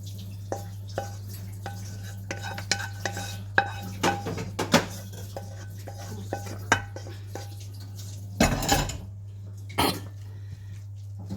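Cooked spinach goes into a greased quiche mold with scattered clinks, scrapes and soft thuds of a utensil against the dish, irregular and close, over a constant low hum, with a throat-clearing cough near the end.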